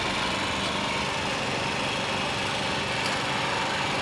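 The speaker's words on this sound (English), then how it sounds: "It's actually the power generator." A small power generator engine runs behind street food stalls in Kuala Lumpur, giving a steady, dense mechanical drone with a thin high-pitched whine, constant and unchanging throughout with no talking.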